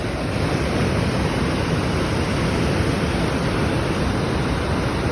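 A waterfall in Raymondville, New York roars in a dense, unbroken wash of noise, loud and close, with no voices over it.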